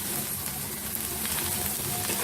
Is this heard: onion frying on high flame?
yes